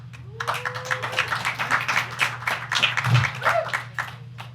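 Audience clapping at a stand-up comedy show: dense, steady applause from many hands, continuous for several seconds at moderate loudness over a low electrical hum.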